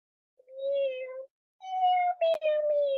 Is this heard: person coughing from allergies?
no